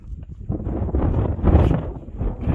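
Gusting wind buffets the microphone on an exposed stretch of the Mountains-to-Sea Greenway hiking trail, a steady low roar swelling and easing throughout, with no talking.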